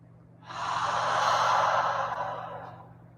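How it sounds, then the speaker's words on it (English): A single long, audible exhale through the mouth during yoga breathing practice, breathy and close, swelling and then fading over a few seconds, with no talk. "Go ahead and take 2 breaths. Audible exhale."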